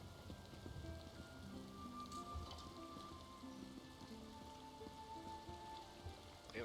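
Soft, steady rain in Elder Scrolls Online patters on a surface throughout, quiet and even, with faint sustained tones drifting underneath.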